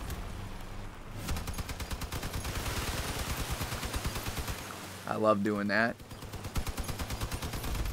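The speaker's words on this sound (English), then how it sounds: "I can stay back a bit and use all three of my machine guns" Rapid bursts of machine-gun fire from three vehicle-mounted guns in the combat game Crossout, steady rattling volleys running through most of the moment, with someone talking briefly over the shooting.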